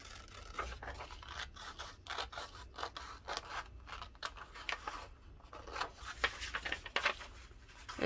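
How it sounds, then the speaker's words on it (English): Scissors snip through a printed paper stocking pattern in quick, irregular close-up cuts, with soft paper rustling between snips and no talking. "you'll just cut out along all the solid black or solid lines"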